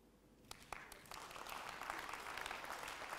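An audience at a business forum claps in a new pattern on request, starting with a few sharp isolated claps and building into steady, fairly faint collective clapping.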